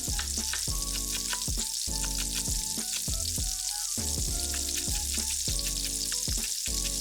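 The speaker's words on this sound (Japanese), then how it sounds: "ミートボールは転がしながら焼きます。" Meatballs sizzle steadily in a pan as they are rolled while browning. The frying is loud and constant throughout, with music playing underneath.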